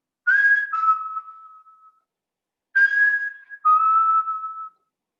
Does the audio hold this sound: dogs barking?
no